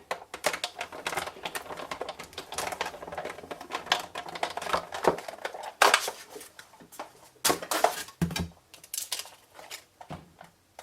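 A die-cutting machine feeds a card through with a shim in place, giving a close, steady stream of clicky, ratcheting mechanical clatter with a few louder knocks and short pauses near the end.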